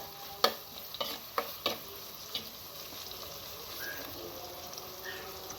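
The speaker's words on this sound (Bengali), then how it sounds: "পেঁয়াজটা ভাজা হয়ে গেছে" Chopped onion and garlic fry in a pan, giving a faint steady sizzle under a few sharp stirring clicks and scrapes near the start, then a quieter hiss alone.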